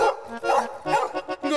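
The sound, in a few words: dog barking in a movie clip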